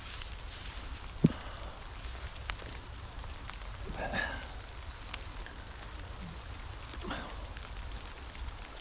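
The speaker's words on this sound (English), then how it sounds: "But it is supposed to stop raining in the next 10 minutes. But it has just come down quite heavy." Steady rain falls through woodland at a wild camping spot, a continuous broadband patter with a few sharper drops and a brief louder tap, moderately loud and without talk.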